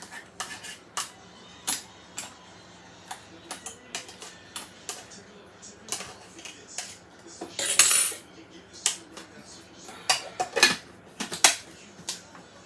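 Crab meat dip is being mixed in a container, producing irregular light clinks and taps of a utensil, with a denser rattling burst midway. The sounds are close and fairly faint.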